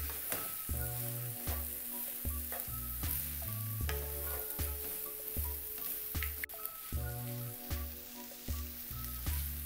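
Rice for coriander rice is stirred and tossed in a pan, with repeated rhythmic scraping and clanking strokes of a spoon over a soft frying sizzle, close and fairly quiet, no talking.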